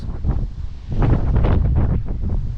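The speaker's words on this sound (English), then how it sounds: "another big bout of wind here that you can hear" Strong wind gust roaring across an open microphone during Storm Babet flooding with steady rain in Forfar and Brechin, Scotland, a loud continuous buffeting rush that swells midway and stays close.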